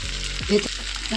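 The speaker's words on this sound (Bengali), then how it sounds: "দিয়ে একটু ভেজে নেব" Chicken rolls made with wheat flour fry in a frying pan, a continuous close sizzle with a couple of soft knocks as they are set down, steady and even.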